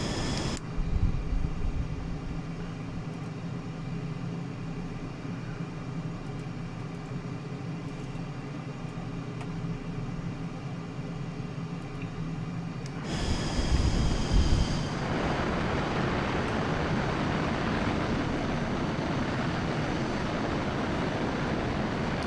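An F-35B jet in Microsoft Flight Simulator hovers with a steady engine drone and whine, then a louder rushing roar swells at about thirteen seconds and holds, with no voices.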